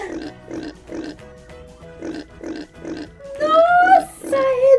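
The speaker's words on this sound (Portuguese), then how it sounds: "Nossa, é do porco!" A pig grunts in a steady series of short, close oinks, followed by higher squealing calls toward the end.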